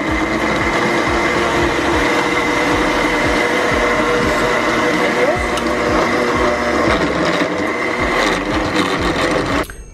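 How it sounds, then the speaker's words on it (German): A countertop blender loudly grinds frozen strawberries, stevia, ginger and water into a smoothie, its motor running steadily with rough churning pulses for nearly the whole stretch before cutting off at the end. "Und jetzt mache ich das Ding mal an, weil ich mixe erstmal das"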